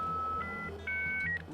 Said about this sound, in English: Racing onto the internet through a dial-up phone modem.